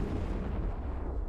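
A smart bomb detonating in the space game EVE Online, a deep, heavy booming rumble that holds steady and then slowly fades, loud and alone without voices.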